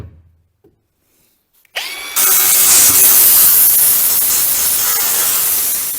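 An angle grinder bites into the metal parts of a damaged tractor bale spike after a quiet start, a loud, close, sustained high-pitched whine and rasp that runs continuously to the end.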